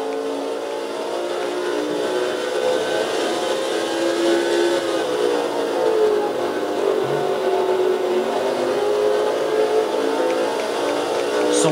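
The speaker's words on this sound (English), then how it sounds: "Bobby Labonte, Elliott Sadler, leaves pit road." Race car engines on pit road at Richmond in the NASCAR 07 PS2 video game hold a steady, loud mechanical drone that swells slightly in pitch. The sound continues without a break and no talk is heard.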